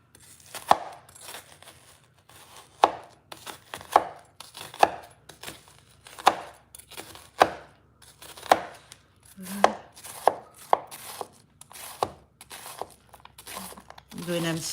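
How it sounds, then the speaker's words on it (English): Onions are chopped with a knife on a board, a run of about a dozen sharp, separate cuts at an uneven, unhurried pace, heard close with soft crinkling and a low voice talking underneath. "I'm going to cut up my onions"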